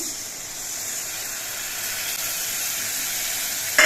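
Steady, bright sizzling and hissing from a spice paste of ground cumin and turmeric mixed with water, frying in a pan with ginger and garlic, continuous and close with a brief clatter at the end.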